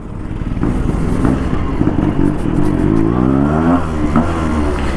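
A Yamaha RX135 two-stroke motorcycle is ridden past sixty, its exhaust a loud, throaty drone that rises and falls as the throttle works, with wind rushing over it.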